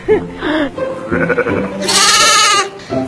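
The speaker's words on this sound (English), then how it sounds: "They're called Jacob's sheep, and their lineage traces back to biblical times" Jacob's sheep bleat loudly and close by in a series of several wavering calls, one long drawn-out bleat near the end standing out above the rest.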